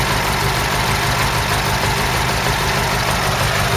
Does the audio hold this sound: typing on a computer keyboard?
no